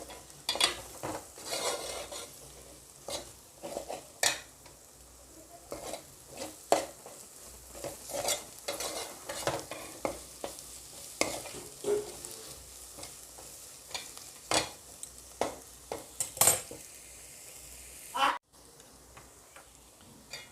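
Chicken being stirred with chilli powder in a pan, with repeated scraping and tapping strokes of a spoon against metal over a light sizzle, close and irregular, with no one talking.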